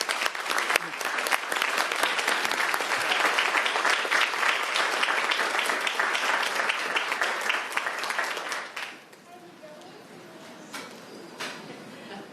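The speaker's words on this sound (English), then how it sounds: "please accept on behalf of the City Council this proclamation and our round of applause" The audience at a city council meeting breaks into a sustained round of applause, a dense, loud wash of clapping for about nine seconds that then drops away quickly, leaving quiet room noise and a few scattered sounds.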